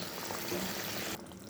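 Hot water poured into a pot of potatoes for a fish curry, a steady broadband rush of liquid lasting about a second before cutting off abruptly to a quieter hiss.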